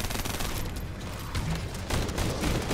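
Rapid gunfire aimed at a boss in The First Descendant, a dense, loud burst of shots running continuously throughout and layered with game effects.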